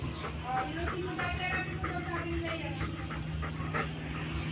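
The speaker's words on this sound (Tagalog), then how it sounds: "yan o, laki-laking aso" A dog whimpers and yips repeatedly in short rhythmic bursts over a steady low background hum, fairly faint.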